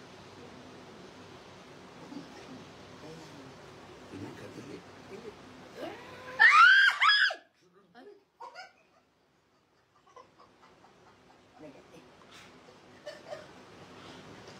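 A burst of high, shrill shrieking breaks out midway, a few piercing cries in quick succession, loud against a quiet room-noise background before falling back to near silence with faint scattered sounds.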